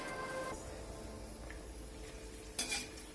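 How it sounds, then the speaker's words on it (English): Red chilies fry gently in a pan, giving a faint, steady sizzle with a brief louder clink of cookware near the end. "So as you're seeing, I'm frying slightly the red chilies."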